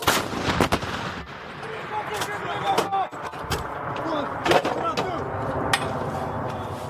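An M777A2 howitzer fires in sharp, heavy blasts, several loud booms spread over a few seconds, with crew voices shouting between shots.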